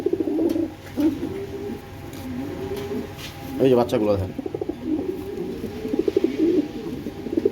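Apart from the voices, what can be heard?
pigeons cooing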